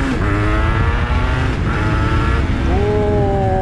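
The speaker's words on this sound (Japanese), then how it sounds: "今日は慣らし運転を終わってレッドゾーンに回す、" A freshly rebuilt Honda NSR250R MC28 two-stroke motorcycle engine is revved hard toward redline on a circuit, a loud, close, buzzing whine that climbs in pitch, dips briefly and rises again.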